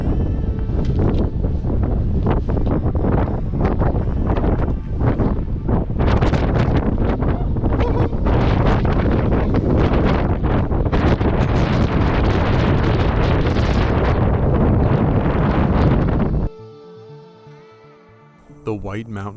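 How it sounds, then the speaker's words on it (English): Strong gusts buffet the microphone near a mountain top in New Hampshire's White Mountains, a loud continuous roar of wind that drops away abruptly near the end. "Really, really windy."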